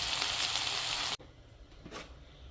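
Chicken pieces, seasoned with a little turmeric, fry in a pan with a loud, bright sizzle for about a second before it abruptly drops to a faint, crackling simmer with small pops.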